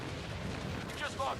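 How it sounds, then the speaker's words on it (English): Missile barrage in Titanfall: Assault, a faint rolling volley of distant artillery-like booms and thuds running continuously under low background game noise. "I'm gonna go ahead and send missile barrage"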